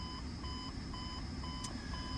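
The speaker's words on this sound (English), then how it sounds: "I should hear the low air alarm and see it before 55 psi" A steady, repeating electronic beep pulses at a quick regular rhythm over a low engine-like hum, a truck's low air pressure warning alarm sounding close by in the cab around 60 psi.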